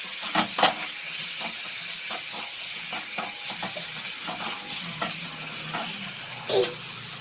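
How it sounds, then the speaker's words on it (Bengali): Ginger paste frying in a pan for a Bengali egg curry with cauliflower and potato, a steady close sizzle and hiss with occasional stirring scrapes, no talking. "আদা বাটাটা দিয়ে দিলাম।"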